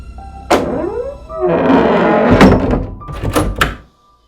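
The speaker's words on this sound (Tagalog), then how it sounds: "nakita ko na nilak niya ang pinto ng kwarto bago kami bumaba" A bedroom door is pushed shut and locked, heard as a series of close, heavy wooden thunks and clunks with a ringing, processed edge, ending in sudden silence.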